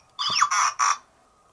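A Hot Toys R2-D2 figure from The Force Awakens emits a short electronic chirp and whistle, three quick bursts with a falling sweep in the first, clear and close in a quiet room.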